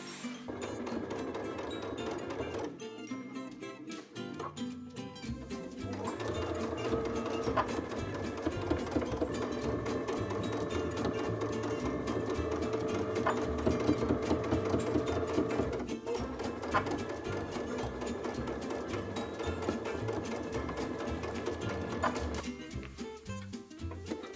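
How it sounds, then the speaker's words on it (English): Sewing machine top stitching a summer dress, a fast steady mechanical rattle of the needle that starts, runs continuously for about twenty seconds, briefly pauses and resumes, close and alone. "now I'm going to add the top stitching to the top of the dress"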